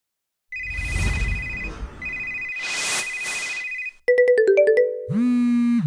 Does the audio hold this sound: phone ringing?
yes